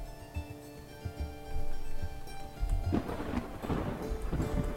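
Rain and rumbling thunder from the video game Dwarf Fortress, low booming rolls followed by a rising wash of rainfall, steady and fairly loud with no talk over it.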